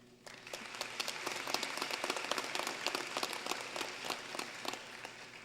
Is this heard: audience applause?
yes